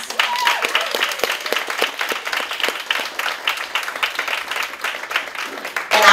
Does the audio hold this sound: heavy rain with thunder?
no